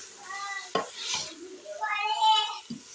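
Lentils, including masoor dal soaked for two hours, are stirred in a pot for beef haleem: a spoon scrapes and sloshes through them in short strokes, with a couple of sharp knocks against the pot.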